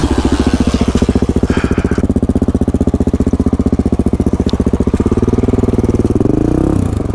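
A motorcycle engine runs loud and close as it rides across a field on a trail ride, a steady rapid thumping drone that shifts pitch near the end as the throttle changes.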